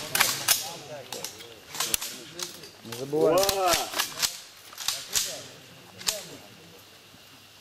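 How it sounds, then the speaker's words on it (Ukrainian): Sharp rifle shots crack out in several irregular volleys over a few seconds in a ceremonial salute at a funeral for fallen fighters, with a voice speaking between them outdoors. "Приготувався до салюту!"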